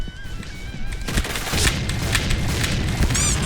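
Explosions and gunfire burst through a Point Blank online shooter match, a dense, loud run of booming blasts and rapid shots that builds after the first second and continues steadily to the end.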